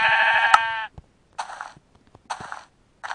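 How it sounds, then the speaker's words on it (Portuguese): A sheep bleats several times in close succession, a long harmonic cry followed by three shorter bleats with brief silences between them. "Que ovelha louca, bizarra, né?"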